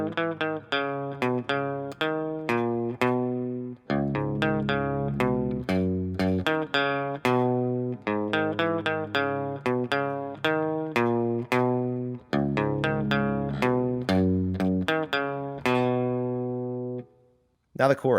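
Electric guitar in drop D tuning playing a repeating riff, clear picked notes and short power-chord stabs in a steady rhythm, moderately quiet and alone.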